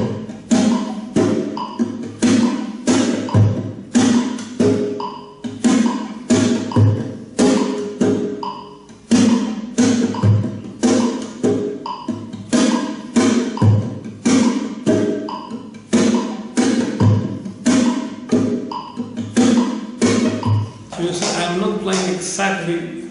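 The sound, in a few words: flamenco guitar strumming with pulled-back timing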